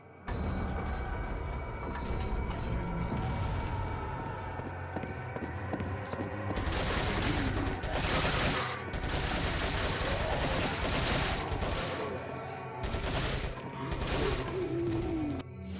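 Sustained gunfire and mechanical combat noise from the 2005 video game Resident Evil 4 rumbles on for the whole stretch, growing denser midway, with faint talking underneath.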